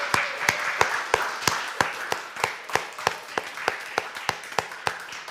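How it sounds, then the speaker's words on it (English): Audience members at a community college faculty council meeting clap in a steady rhythm, sharp distinct claps at an even pace that ease off over a few seconds, close and fairly sparse as though from a small group. "can we give the people in the back room a round of applause?"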